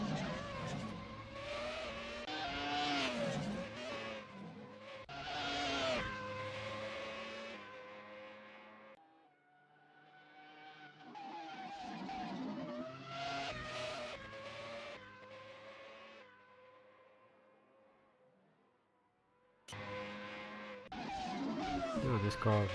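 A Renault R24 Formula 1 car from 2004 in a racing simulator screams up the Goodwood hillclimb, its high-revving engine rising and falling through repeated gear changes, easing off mid-run before surging again.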